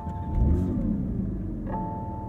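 Start-up of a 2022 Porsche 911 GT3's 4-liter naturally aspirated flat-six: a loud, close engine catching and rising into a revving rumble, then settling to a steady idle.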